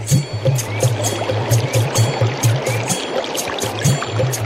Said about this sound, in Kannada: ಭೀಮ ನದಿಯಲ್ಲಿ ಸ್ನಾನ ಮಾಡಿ